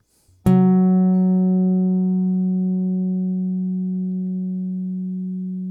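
A single long low note plucked on a Chapman Stick through a pickup with the highs rolled off rings out mellow and sustained, slowly fading after one sharp attack, heard alone and close.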